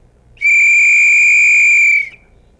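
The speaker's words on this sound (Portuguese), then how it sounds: "E temos também um apito." A single shrill whistle blown once, steady and piercing for under two seconds against near silence.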